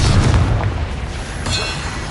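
A deep, booming blast from the Confringo fire spell in the Hogwarts Legacy game, a loud rumbling explosion that swells, eases, then surges again with crackling debris on top.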